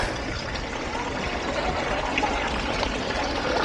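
Fresh water running from a public drinking fountain in Lucerne, a steady close splashing and trickling stream heard continuously with no break.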